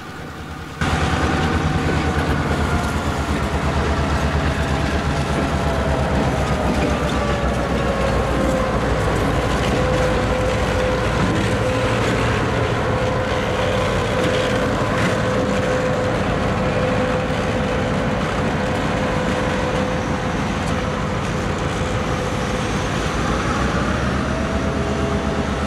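A GP38-2 diesel locomotive drones steadily as it pushes a freight train past on a cold, windy morning, a loud, continuous rumble with a faint clatter of cars throughout and no voices.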